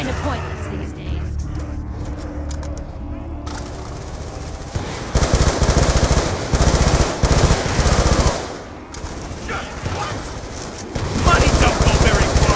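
Loud bursts of automatic gunfire in Black Ops II Zombies on the Buried map, several rapid volleys separated by short pauses, with voices talking in the game between and over the shots.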